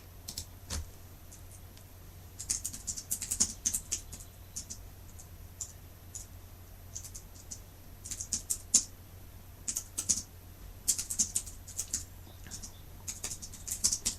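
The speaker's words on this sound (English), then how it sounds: "I'm just typing out a quick message that Sarah can say." Quiet, irregular clicking of keys on a computer keyboard in short bursts, close by in an otherwise still room.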